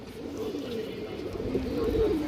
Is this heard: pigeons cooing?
yes